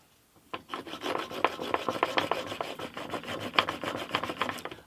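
A blade is honed by hand toward a 25-degree bevel, rhythmic rasping strokes scraping back and forth against a sharpening stone, close and steady without any talking.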